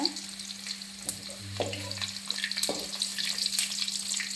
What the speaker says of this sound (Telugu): ఆనియన్ అండి ఎరగడలు కట్ చేసి పెట్టుకున్న సన్న ముక్కలు ఫ్రై చేసుకోవాలి